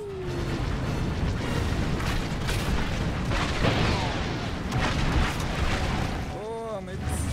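Booming gun turret blasts in a Star Wars virtual reality game on PlayStation 4 Pro roll continuously under dense rumbling noise, with someone talking over the din and a sweeping electronic laser sound near the end.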